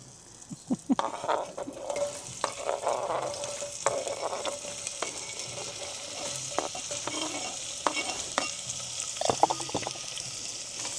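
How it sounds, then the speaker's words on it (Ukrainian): Steady sizzling of food frying in olive oil inside a camper van, a continuous crackling hiss with occasional sharper pops and stirring clatter, close by, no talking. "І це так смажимо."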